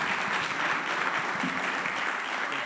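A community dialogue audience gives sustained applause, even and continuous, a broad wash of many hands clapping from start to finish.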